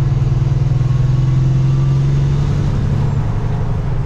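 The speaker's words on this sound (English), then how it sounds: "you hear the turbo chime in there too" An 18-wheeler semi truck engine drones steadily and loudly at close range, a strong low harmonic tone from the pipes holding throughout with a faint higher whine from the turbo riding above it; no voices.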